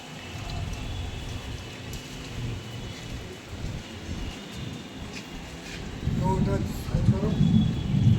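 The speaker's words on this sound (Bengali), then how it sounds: "আকাশে এখনো মেঘ করে রয়েছে, বৃষ্টি হচ্ছে।" Rain patters steadily throughout, growing heavier and louder toward the end, with people talking faintly in the background.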